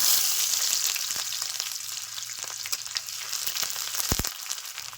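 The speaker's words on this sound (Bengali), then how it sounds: "তেল গরম হয়ে গেছে ফোড়নে দিচ্ছি একটা শুকনো লঙ্কা আর গোটা কালো জিরে এখন দিয়ে দিচ্ছি পেঁয়াজ কুচি" Chopped onion hits hot oil already tempered with a dried chili and whole nigella seeds, a steady close sizzle with a few stirring scrapes for a boal fish kosha.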